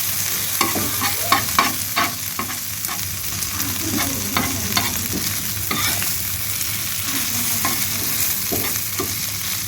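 Country chicken masala frying in a pan, broadband sizzle throughout with repeated stirring scrapes and clinks at an irregular rhythm, close and steady, no talk.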